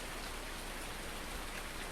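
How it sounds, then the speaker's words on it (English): Rain in the Farming Simulator 19 video game falls as a steady, dense hiss of drops, constant and moderately loud with no other sounds. "I hear rain, but I'm not seeing rain."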